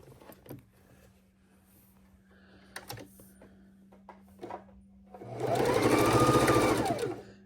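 Quiet clicks and taps give way to a sewing machine whirring steadily for a couple of seconds as it stitches a quilt, close by and moderately loud.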